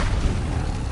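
A Bombarda spell explosion from the wizarding game Hogwarts Legacy: a dense, booming blast with rumbling low end that fills the whole moment, loud and close, no voices.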